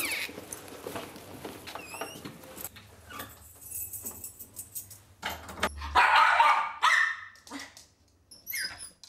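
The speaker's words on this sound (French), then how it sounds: "Nounours aboie sans s'arrêter" A one-year-old bichon named Nounours, left alone at home, barks in sharp, irregular bursts, some of them high yips, close and fairly loud, with brief pauses between volleys.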